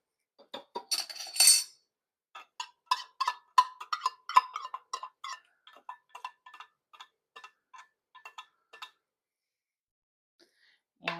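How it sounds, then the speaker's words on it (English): A can of chilies scraped into a pot of taco soup: a close run of light metallic clinks and taps, busy at first, then thinning out into sparse ticks, with near-silence at the end. "So we are going to dump in 1 can of chilies."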